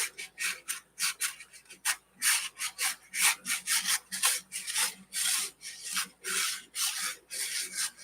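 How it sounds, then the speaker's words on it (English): Rub 'n Buff finish is buffed off a tassel with quick, repeated rubbing strokes in a steady rhythm, close and fairly soft, with no voices. "I'm buffing off the rub and buff."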